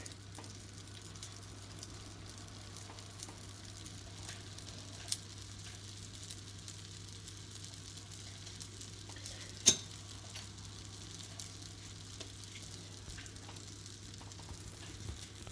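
Thin batter for thousand-hole crepes (baghrir) cooks on a crepe pan with a faint, steady low sizzle, quiet and even, with a few soft clicks and no talking.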